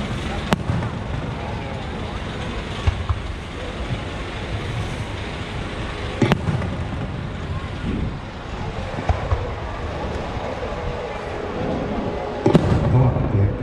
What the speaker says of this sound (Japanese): まずは星がパリッと音を立てて一斉に出てくる花火